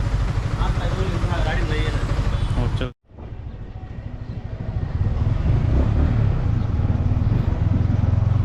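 A Yamaha R15 motorcycle rides off, its engine noise building into a steady, loud rumble after a brief pause, with someone talking over the start.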